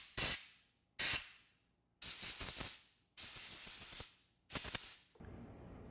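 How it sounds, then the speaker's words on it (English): Short sharp blasts of compressed air clear out threads in an aluminum motorcycle engine head, five close hissing bursts of which the later ones run longer, each fading fast into quiet. "Let me grab my air compressor real quick."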